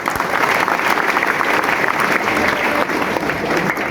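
Audience applause fills a hall during a career guidance program in Malkapur, steady dense clapping throughout at close range, with no speech over it.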